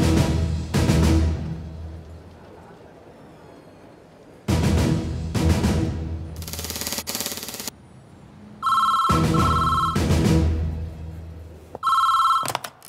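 An outgoing phone call rings out with repeated electronic ring tones between loud, dramatic film score bursts in an action movie scene, the rings coming in two short clusters near the end.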